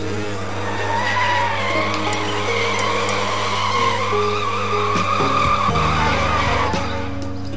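A motor scooter ridden in a video game, its engine holding a steady, loud buzzing drone for the whole stretch, with tire skidding and squeal layered on top.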